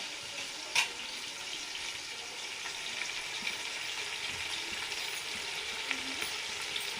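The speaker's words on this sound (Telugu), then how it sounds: "ఇప్పుడు ఈ వేగుతూ ఉంటుంది" Mutton biryani ingredients, with coconut, fry in a pan with a steady, even sizzle and faint crackle throughout, one brief clatter near the start, quiet and alone with no voices.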